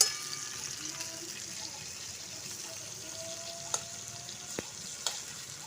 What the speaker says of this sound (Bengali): এরকম হালকা করে আমি ভেজে নেব সব পটলগুলোকে।